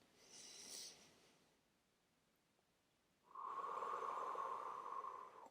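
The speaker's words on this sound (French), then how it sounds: "on finit toujours par prendre une profonde respiration" A slow, deep breath drawn in through the nose during a short EFT tapping routine, faint and close, with a soft airy onset followed by a fuller, steady inhale lasting about two seconds.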